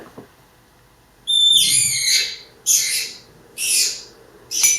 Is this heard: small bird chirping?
yes